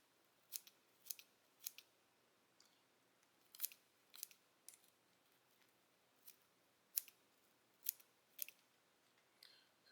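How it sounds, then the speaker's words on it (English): Scissors snipping deer hair while tying a Goddard Caddis dry fly, a series of crisp, close, irregularly spaced cuts with quiet pauses between them and no talking. "You can dull up some scissors pretty quick cutting deer hair"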